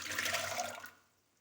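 Water poured into a pressure cooker over yam and chickpeas, a short rushing splash that runs for under a second and then stops, close and fairly quiet.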